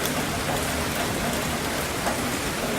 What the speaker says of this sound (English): That is the power of rain. That is rain.